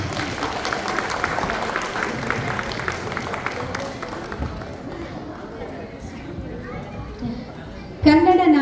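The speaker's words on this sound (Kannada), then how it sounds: "ಬರಲಿ ಜೋರಾದ ಚಪ್ಪಾಳೆ." Audience applause at a Kannada cultural festival, a broad wash of clapping from a crowd that runs steadily and slowly thins, with a burst of louder sound near the end.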